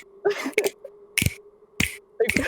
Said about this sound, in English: Theater snaps.